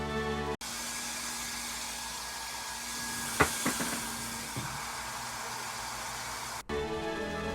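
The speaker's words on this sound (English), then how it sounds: "I ended up using a hairdryer to help dry the layers of paint in between coats" A hairdryer blows steadily and loudly to dry paint on a resin action figure's hat, a constant airy whoosh with a few faint clicks partway through.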